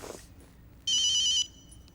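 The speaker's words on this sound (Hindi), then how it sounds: "क्या फोन है?" A telephone rings once indoors, a short loud electronic warbling trill of about half a second standing alone after a brief rustle.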